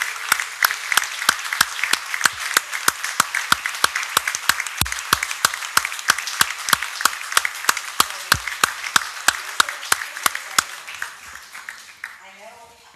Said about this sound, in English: Going to get a standing ovation by all of us because Trish is an incredible lady